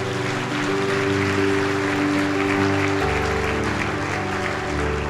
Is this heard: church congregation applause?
yes